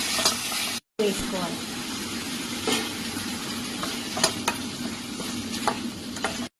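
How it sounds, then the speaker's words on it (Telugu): Cashews and onions frying in hot oil in a pan for paneer masala make a bright, crackling sizzle close by, with several sharp ticks and spoon taps over it and one brief dropout near the start. "కాజు, కొన్ని ఉల్లిపాయలు. వీటన్నీ ఫ్రై వేసుకోవాలి."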